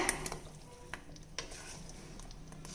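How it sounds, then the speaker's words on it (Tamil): Gram flour mixture being stirred into hot sugar syrup for ghee Mysore pak: soft, steady scraping and stirring in a pan with occasional faint clinks of a spoon against metal, low and close. "நல்லா கைவிடாமல் கிளறி விட்டுக்கிட்டே இருக்கணுங்க"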